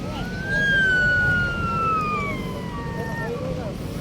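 A siren wails continuously at Dolomite sand beach, its long falling tone rising out of crowd murmur and then fading somewhat toward the end.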